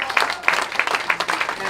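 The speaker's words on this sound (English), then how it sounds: "give yourselves one more round of applause for being here" A comedy club audience in Los Angeles applauds in a lively burst of close, overlapping hand claps, fairly loud and steady for the short moment heard.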